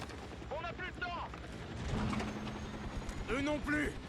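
Explosions and gunfire crash through a tent area in the video game Battlefield 6, a heavy blast rolling out midway among sharp battle bursts, with people talking over the action.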